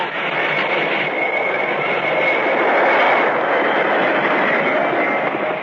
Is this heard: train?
yes